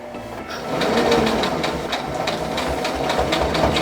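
Sewing machine stitching a homemade fabric mask with three tucks, running in a loud, continuous rapid whir and rattle close by after a short start.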